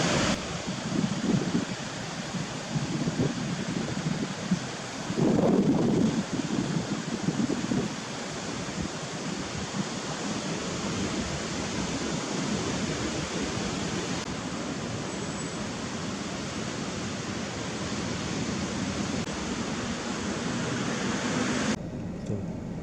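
Ocean waves wash in at Batu Karas beach, a steady broad hiss of surf with wind buffeting the microphone, a few louder surges early on, and no talking.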